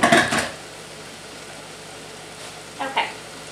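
Food frying and sizzling in a pan on a home stove, turned down low, with brief louder bursts at the start and near the end over a faint steady background.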